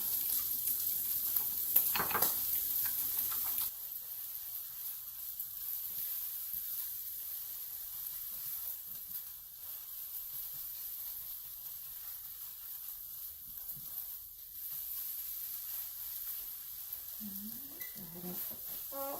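Eggs frying over easy in a pan for a grits breakfast bowl, a soft continuous sizzle with a louder burst early on, then a quieter steady hiss.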